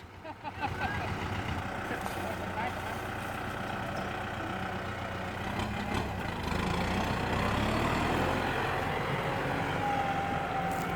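A farm tractor engine runs steadily nearby, a continuous low rumble that grows slightly louder partway through, with people talking over it outdoors.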